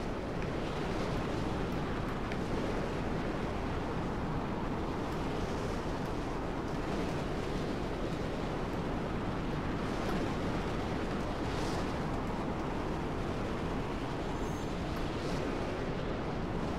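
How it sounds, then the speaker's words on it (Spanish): Roaring sandstorm wind in the Mad Max video game, a steady loud broadband rush with gusty swells, continuous and enveloping with no break. "Es una tormenta de arena, no me jodas."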